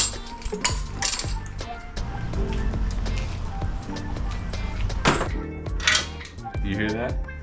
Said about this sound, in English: Sounds like there's something inside the oil pan.